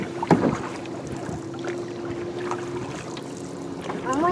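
Water sloshes and gurgles around an Old Town Saranac 146 canoe as a paddle dips while it turns in circles, over light wind noise, fairly close.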